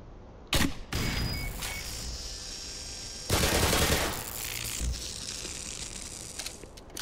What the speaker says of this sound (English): Auto turrets.